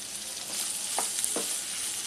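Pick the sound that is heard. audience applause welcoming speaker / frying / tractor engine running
frying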